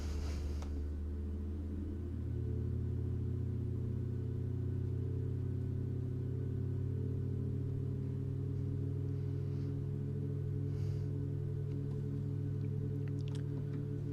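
In Microsoft Flight Simulator, a Boeing 737 MAX engine starts up with a low, steady rumble and a rising whine that settles into an even drone, sounding close and continuous with no voices.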